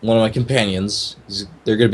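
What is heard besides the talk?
None of the usual background noises is heard.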